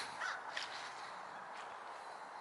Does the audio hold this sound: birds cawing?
yes